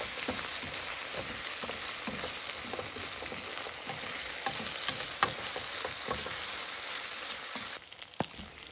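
Food fries in a breakfast skillet while it is stirred, a steady dense sizzle with scattered scrapes and taps of the utensil throughout, close and continuous.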